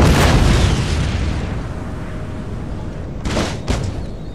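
Quicklime shell cannon fire in Empire: Total War, a heavy booming explosion up front that rumbles off, followed by two sharper blasts a moment later.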